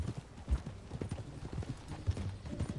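Horse hooves clip-clopping in an uneven trotting rhythm in the video game Red Dead Redemption, moderately close, with a faint background ambience and no clear speech.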